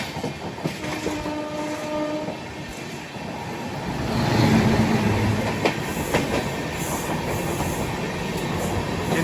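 Train on the Mysore–Udaipur Humsafar Express route pulling into a station and coming to a halt, a steady rumble of wheels and rail clatter swelling midway, with faint horn-like tones early on.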